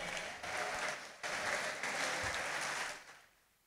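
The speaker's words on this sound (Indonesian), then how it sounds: "Tepuk tangan kembali untuk Pondok Modern Tazaka" Applause from an audience at a student cabinet accountability report, honoring Pondok Modern Tazaka: a crowd clapping in a steady, dense burst with slight surges, fairly distant, fading out near the end.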